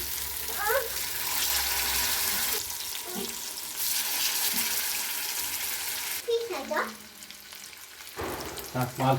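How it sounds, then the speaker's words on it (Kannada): Fish frying in a pan gives a loud, steady close sizzle with bursts of stirring and scraping, and a few brief vocal sounds over it. "ಸೊ ಇವಾಗ ಫಿಶ್ನ ಫ್ರೈ ಮಾಡ್ತಾ ಇದ್ದೀವಿ."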